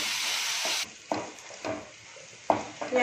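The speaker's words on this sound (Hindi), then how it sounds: "प्याज को हम ब्राउन होने तक सेक लेंगे" Crushed onion frying in oil until brown, opening with a loud sizzle that cuts off, then quieter frying broken by several sharp stirring scrapes and knocks of a spoon against the pan.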